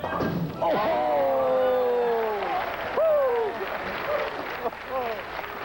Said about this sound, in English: the crowd is into this